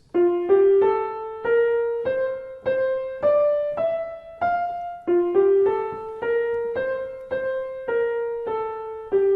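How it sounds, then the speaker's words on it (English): Sopranos sing a slow, stepwise chorale melody from J.S. Bach's Cantata 20 in long sustained notes, each phrase rising then falling back, with soft orchestral accompaniment underneath. "the sopranos sing this melody"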